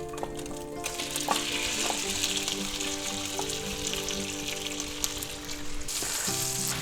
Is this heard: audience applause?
no